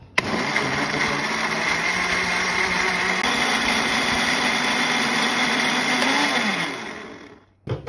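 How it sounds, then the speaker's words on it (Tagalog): A kitchen blender whirs loudly and steadily, blending tomato, cucumber, banana and fresh milk for a breakfast drink, its motor pitch shifting as the mix changes before spinning down and stopping. "simulan natin i-blender ang ating tomato at cucumber at ang ating banana at fresh milk lamang po"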